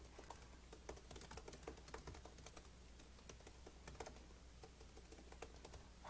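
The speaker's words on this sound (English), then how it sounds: "You can hear me typing away." Rapid, uneven clatter of keys on a computer keyboard, close and moderately loud, running steadily throughout with no talking.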